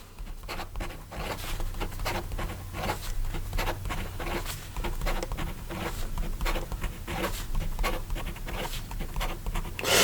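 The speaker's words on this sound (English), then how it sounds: "And then in regard to some fast writing" Fast handwriting with a Faber-Castell WRITink pen, a steady run of quick scratchy strokes across paper that stays close and fairly loud for the whole stretch, with no talking.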